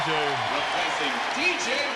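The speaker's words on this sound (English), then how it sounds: "Standing ovation" A basketball crowd in Champaign gives a standing ovation to a four-year senior player, a steady roar of applause and cheering throughout, with a voice talking over it.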